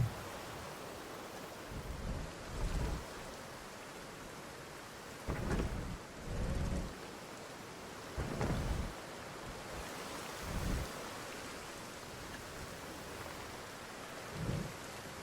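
Rain and thunder from a storm in the Jurassic World Evolution 2 dinosaur park game. A steady hiss of rain sits under repeated low, rolling thunder rumbles at irregular intervals, faint throughout.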